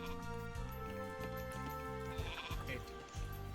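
A goat bleats in the Age of Mythology video game, wavering cries over a steady, rhythmic low game backdrop at moderate level.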